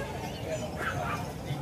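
Belgian Malinois puppies bark and yip at an outdoor pet market, a few short yelps half-buried under steady crowd noise and nearby people talking.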